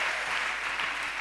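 A crowd at a Friday night prayer gathering in Abidjan applauds in praise of Jesus Christ, giving dense, steady, close clapping that fills the whole moment.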